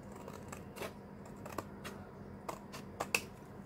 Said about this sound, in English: I'm going to use my scissors for this